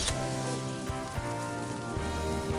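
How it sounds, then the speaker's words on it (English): Heavy rain drums steadily on a surface during a boat ride off Zanzibar, a dense, continuous wash of close patter with no voices. "Heavy rain rolled in during our boat ride"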